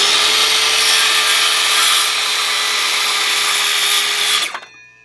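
A loud, steady whine of a DeWalt DCS391N cordless circular saw with a new blade biting through wood, holding for several seconds before cutting off abruptly and fading out.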